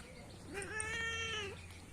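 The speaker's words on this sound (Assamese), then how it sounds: "এইটো চাওক মেকুৰীটোক মোৰ বাইকতে থাকে এনি টাইম" A pet cat riding on a motorbike gives a single drawn-out meow lasting about a second, close and clear over a steady low outdoor hum.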